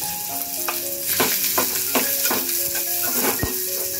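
Chopped onion frying in about three spoons of hot oil in a cooking pot for an aloo gobi tempering: a continuous close sizzle broken by regular scraping stirs, with no talking.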